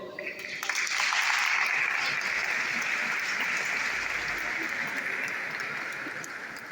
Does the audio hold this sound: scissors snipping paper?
no